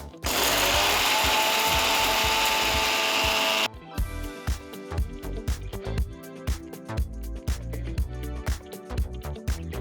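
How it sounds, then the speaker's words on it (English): A mixer grinder pulverises roasted walnut masala to a fine powder in a mixer jar. A loud, steady roar lasts about four seconds, then cuts off and gives way to rattling clicks. "transfer it to a mixer jar and grind it to a nice fine powder"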